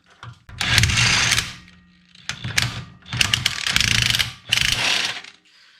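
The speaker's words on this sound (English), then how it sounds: "Now we're going to fully remove the spring compressor." Spring compressor being worked off the rear coil spring of a Mercedes R107 450SL, giving close, loud ratcheting and mechanical clicking in several bursts separated by short pauses.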